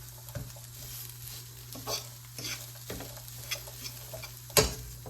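Chickpeas being mashed and stirred in a dry skillet with no oil, giving soft scraping and light crackling with a few sharper knocks of the utensil against the pan, close and fairly quiet.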